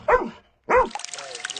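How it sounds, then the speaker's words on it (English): Rescue dog trained to search wreckage after Russian strikes, giving two sharp close barks a short pause apart, followed by softer panting and clinking noise. "That includes the team that trains this rescue dog, named Joy, to comb through the wreckage of"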